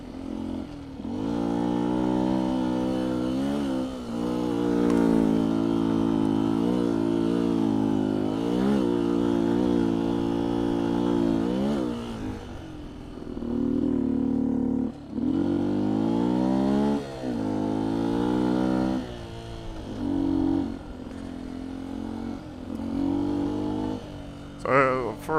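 A 2019 Beta 125 RR-S two-stroke dirt bike with 13T/65T sprockets rides off-road over obstacles such as logs, its engine droning and rising and falling in pitch through repeated revs, with brief dips where the throttle is cut.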